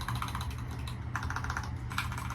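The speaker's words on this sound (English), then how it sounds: "Really like the sound of the keys." Rapid typing on a BOYI WK68 compact 68-key mechanical keyboard gives a close, crisp run of key clicks in an uneven rhythm, with no voice over it.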